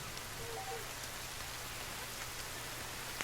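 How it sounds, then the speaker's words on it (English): Steady soft hiss of rainfall in the video game The Forest, with faint patter, continuous and even throughout, no voices. "And it's raining."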